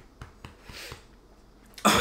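A man gives a few light dry coughs, ending in a louder harsh cough right at the close.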